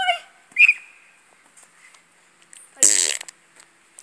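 A person imitates a fart with their mouth, producing a short buzzing raspberry burst near the start and a longer, louder sputtering burst later, with quiet gaps and faint background sounds between.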